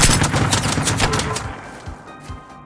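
Rapid bursts of enemy gunfire in the video game Generation Zero crackle loudly for about a second and a half, then thin out into a few scattered, fainter shots.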